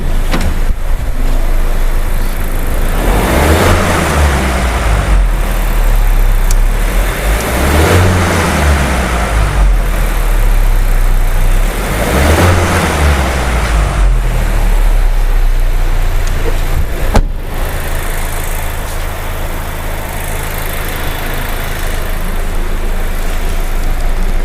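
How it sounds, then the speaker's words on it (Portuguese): A car engine during a direct-injection test is revved up four times in steady, evenly spaced surges that rise and fall back to idle, loud and close, then idles steadily until a soft clunk near the end, with no talking. "vou dar umas aceleradas ainda"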